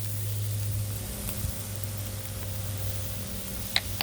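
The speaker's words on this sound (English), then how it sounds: "Squeezing some on and then spreading the butter around." Butter sizzles on a hot Blackstone flat-top griddle with a continuous close hiss, a steady frying crackle, and a couple of small clicks near the end.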